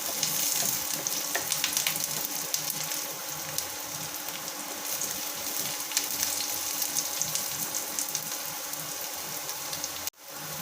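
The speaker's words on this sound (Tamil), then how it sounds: "வெங்காயம் நல்லா வதங்கட்டும் வெங்காயம் நல்லா வதங்கிடுச்சு கருவேப்பிலை போட்டுக்கலாம்" Onions and curry leaves sauté in hot oil for a masala idli, giving a steady, close crackling sizzle that runs unbroken for about ten seconds before a brief cut and resumption.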